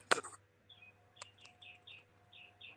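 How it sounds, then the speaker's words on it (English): Birds chirp in short, high repeated calls against a quiet outdoor background, with a sharp knock near the start. "we can hear the birds chirping in the background"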